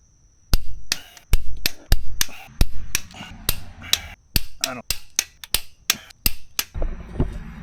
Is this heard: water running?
no